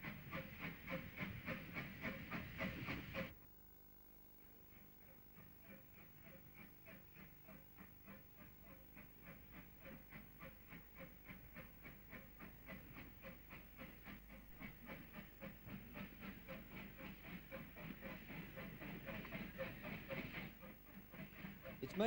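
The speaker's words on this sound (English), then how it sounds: "the first Bluebell train would arrive on the line" The Bluebell Railway steam locomotive Stepney arrives on the Ardingly line, a rhythmic chuffing and hiss building over many seconds at moderate distance, after an opening burst of louder noise.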